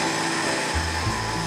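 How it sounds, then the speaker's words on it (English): A kitchen blender churns peanut butter with cocoa powder and olive oil, starting as a strained whir and then dropping into a deeper, louder grinding drone as the thick, dry mixture catches, with no voices. "And now let's blend."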